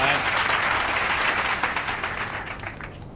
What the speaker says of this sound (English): I imagine you're all cheering.